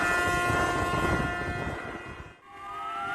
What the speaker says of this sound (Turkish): Kastamonu İnebolu Limanı'ndaki balıkçı teknelerinde de sirenler Atatürk için çaldı